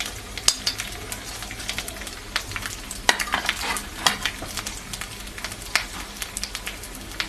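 Cumin, coriander and dry chilli powder hitting hot oil in a frying pan, a close sputtering sizzle with repeated sharp crackles and stirring scrapes throughout.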